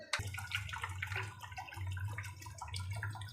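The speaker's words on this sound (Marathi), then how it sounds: "मी म्हणजे याच्यात पाणी टाकते" Water splashes steadily into a cooking pot holding a fried spice paste, a continuous pouring and gushing sound with a low hollow rumble from the pot, close and fairly loud with no talking.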